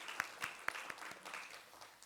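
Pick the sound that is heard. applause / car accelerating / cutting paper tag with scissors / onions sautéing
applause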